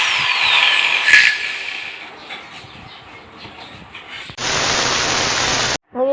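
A newly unboxed electric drill or grinder from an online shop is switched on and runs with a steady, loud whirring hiss for about a second and a half, then cuts off abruptly, following a stretch of quieter handling noise.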